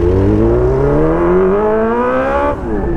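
A Honda Hornet motorcycle revs loudly up close, its engine note climbing steadily for about two and a half seconds before the throttle drops and the exhaust crackles softly on the overrun.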